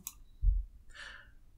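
A computer mouse clicks once quietly while a user sets a node into maintenance mode in the XCP-NG server management interface, with a short soft thud just before it and no talk.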